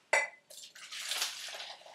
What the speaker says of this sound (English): So pour it into a jug